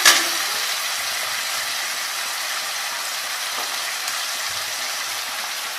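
Salt and Maggi noodles stirred in a hot pan give a steady, close sizzling hiss that runs the whole time, with faint scraping underneath and no talking.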